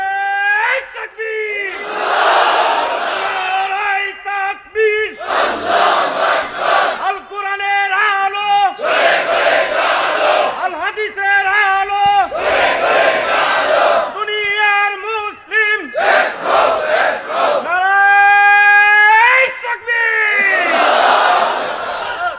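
A large crowd at an open-air religious gathering roars a takbir chant in unison, loud repeated bursts of massed voices separated by short pauses, with a lead voice calling between them.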